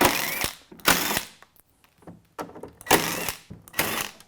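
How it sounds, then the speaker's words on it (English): An impact gun drives screws out of a Midea 50-pint dehumidifier in short loud bursts of rattling hammering, about five bursts separated by brief pauses, close up with no talk. "I'm going to use an impact gun"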